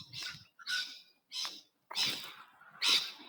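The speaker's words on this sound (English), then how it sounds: "Oh, those birds are so beautiful, aren't they?" Birds call in the botanical gardens at Bendigo, Victoria, Australia: five harsh, scratchy calls come in short bursts with brief gaps between them, moderately close and heard alone.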